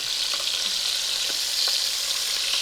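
Chicken pieces brown in a hot pan for coq au vin, giving off a loud, continuous sizzle with faint crackles and pops and no voices.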